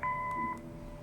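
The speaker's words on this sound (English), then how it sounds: "Leave a message after the beep." An answering machine beep in the video game Kathy Rain, a single clean electronic tone lasting about half a second over faint background hum.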